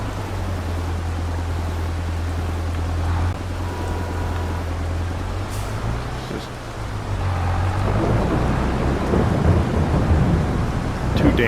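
In Farming Simulator 22, steady rain hisses beneath a low rumble of thunder, with the downpour intensifying toward the end.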